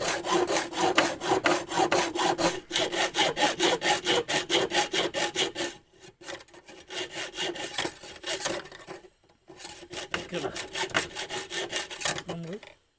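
A hand saw rasps through a pipe in quick, even back-and-forth strokes while making a homemade fish-hunting gun, close and loud, with a short pause before the rhythmic sawing resumes.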